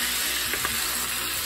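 Steak and potatoes sizzle in a hot pan with a steady, close hiss of frying, and brief scraping knocks as the food is stirred.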